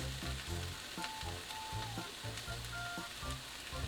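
Ham and vegetables stir-fry in oyster sauce and oligosaccharide syrup, a steady close sizzle with rhythmic scraping and tossing of a utensil in the pan.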